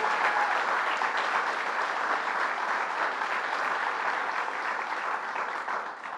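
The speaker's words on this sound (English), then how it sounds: "Let's give her a big round of applause" Rally crowd applauding for Planned Parenthood, a broad continuous wash of clapping from many hands that holds steady and loud throughout before easing slightly at the close.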